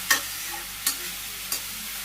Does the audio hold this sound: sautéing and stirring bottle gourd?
yes